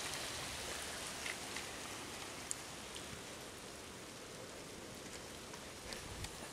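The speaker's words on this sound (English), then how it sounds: "it is hailing." Hail falling outdoors in spring, a steady dense hiss of pelting ice with occasional sharper ticks and impacts, sustained and fairly loud throughout, no voices.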